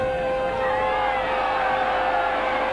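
Steady, dense roar of a rugby league crowd at a Leeds v Sheffield match, loud and continuous with a sustained tonal hum running through it.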